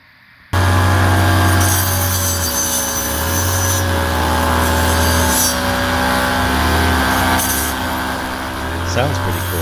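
A homemade push-mower hedge trimmer runs steadily and loudly from start to finish. Its motor drone holds a low hum, with a harsh cutting rasp rising and falling over it.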